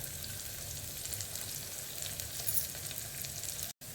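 Chillies frying with onion in a hot pan, a steady close crackling sizzle that holds throughout, with a brief dropout near the end.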